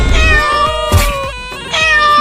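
A kitten meows repeatedly in high, tonal cries, a few close calls in a row with brief pauses between them, loud and with no talking over it.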